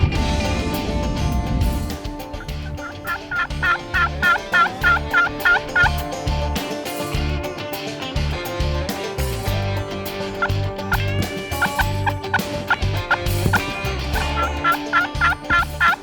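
Wild turkeys gobble in several rapid, warbling bursts over a busy outdoor background, some calls nearer and louder than others.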